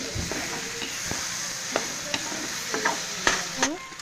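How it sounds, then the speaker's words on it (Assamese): Food sizzling steadily in hot oil while a spatula stirs and scrapes the pan in irregular knocks and clatters, heard up close without speech. "আৰু এইখিনি অলপমান ভাজি ল'ম।"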